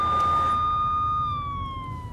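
An ambulance siren holding a steady high wail that slowly falls in pitch as it passes, loud and near against low traffic rumble, with no voices.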